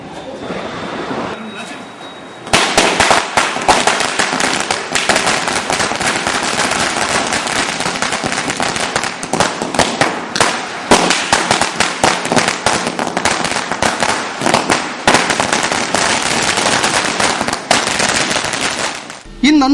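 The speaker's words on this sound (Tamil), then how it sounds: "சிறியவர்கள் தொடர்ந்து பாதுகாப்பாக பட்டாசு வெடித்து பொழுதை கழித்தனர்." Firecrackers burst continuously during Diwali celebrations in Puducherry, a dense, loud barrage of sharp cracks and rapid pops that runs almost without pause after a quieter opening.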